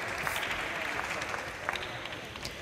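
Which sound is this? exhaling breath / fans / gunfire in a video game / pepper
fans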